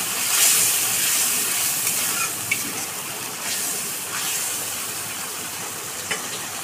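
Water splashed into spice paste frying in oil for a spiced pointed gourd curry gives a steady close hiss and sizzle, with a few small pops and crackles throughout.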